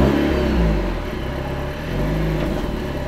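A Renault Alpine sports car engine running steadily close by, with a low rumbling idle that swells slightly as if blipped, then settles back to a smooth mid-pitched hum; no voices.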